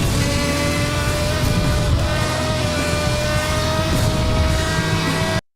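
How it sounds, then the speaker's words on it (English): Car engine from the Need for Speed Hot Pursuit racing game: a steady, loud, sustained engine drone with a constant tonal whine holding through the whole stretch, then cutting off abruptly at the end. "this car has, in my opinion, the best engine sound in the game"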